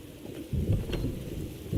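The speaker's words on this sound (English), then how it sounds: "Oh, raining again." Steady rain patters with a low rumble of thunder rolling in partway through, brief and close, in the video game The Witcher 3.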